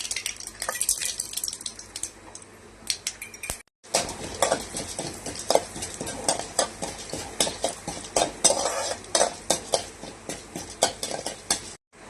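Tempering in a kadai with mustard seeds, urad dal and chana dal in hot oil, a steady sizzle with frequent metal spoon scrapes and stirring clinks close by, with a brief pause partway through.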